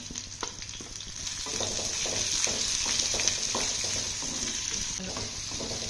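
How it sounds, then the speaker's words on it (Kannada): Chillies and onions frying in a clay pot for chicken sukka pepper dry, a steady close sizzle with repeated stirring scrapes throughout, no voices. "ಸೊ ಕ್ಲೀನಾಗಿ ರೋಸ್ಟ್ ಆದಮೇಲೆ ಮೆಣಸಿನ್ಕಾಯಿ ಮತ್ತು ಆನಿಯನ್ಸ್ ಹಾಕೋತಾ ಇದ್ದೀನಿ"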